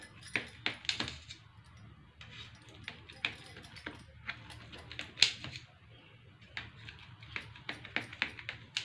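A knife cuts set pea snack into squares at close range, making repeated soft taps of the blade on the board in an uneven rhythm, with no talk.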